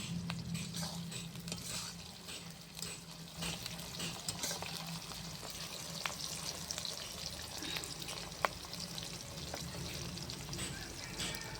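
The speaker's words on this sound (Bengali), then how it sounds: "পেঁয়াজটা এখন ভেজে নিচ্ছে, ভালো করে ভেজে নিচ্ছে একদম।" Onions frying in a pan for a Bengali-style red, spicy chicken curry, with a steady low sizzle and occasional stirring scrapes and clinks throughout.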